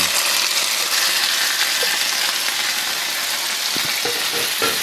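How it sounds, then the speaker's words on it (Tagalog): Marinated pork hits a small pan of garlic and onion sautéed golden brown, giving a steady, loud broadband sizzle that runs unbroken, with a few faint clinks near the end and no talk. "after natin igisa ang ating bawang at sibuyas, dahil na golden brown na siya, ilagay natin itong ating marinated pork"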